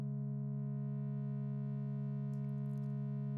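A dissonant cinematic synth patch built in Reaktor holds a steady, loud sustained tone with stacked harmonics and a low bass drone for the whole stretch, with faint high shimmer entering near the end and no voices.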